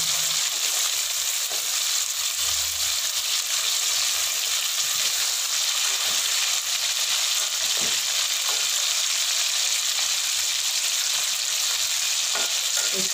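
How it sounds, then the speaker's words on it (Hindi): Chicken for chicken karahi fries in a pan, a dense continuous hiss and sizzle with occasional stirring scrapes and pops, loud and close, no one talking. "इसको हम साइड पे करके अच्छी तरह से फ्राई कर लेंगे।"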